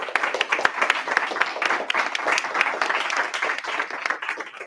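Room audience at a hybrid webinar on seniors in business applauds the four speakers, a medium crowd of dense, steady clapping that tapers off at the end.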